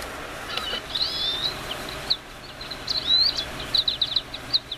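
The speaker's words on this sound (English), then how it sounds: "Chirping birds in the morning." Recorded birdsong nature sound from a Sony ICF-C707 clock radio: repeated high chirps and short warbling phrases over a steady hiss, moderately loud and continuous with no talking.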